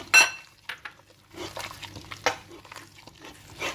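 Clinking and scraping of utensils against a pan as oils are added for fried bakso, with soft pouring and light sizzling in short bursts, close by and without talk.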